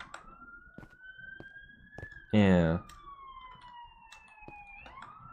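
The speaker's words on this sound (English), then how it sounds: "Yes, I'm so annoyed about that ambulance, man." An ambulance siren outside carries as a faint, slowly rising and falling wail in the distance, briefly interrupted by one short burst of a nearby voice.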